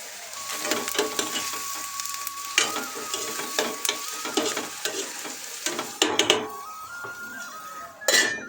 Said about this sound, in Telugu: ఉల్లిపాయలు అయితే చక్కగా ఫ్రై అయిపోతాయి